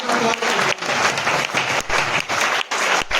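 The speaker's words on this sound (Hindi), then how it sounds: "जबरदस्त तालियां।" A seated audience bursts into loud, vigorous clapping, a thick continuous patter close by with a few brief dips, lasting a few seconds with no talk over it.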